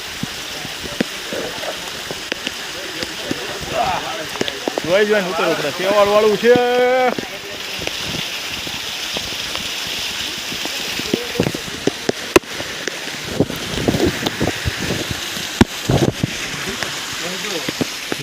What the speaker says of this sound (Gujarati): હાલો બાકી હતો તો વરસાદે આવી ગયો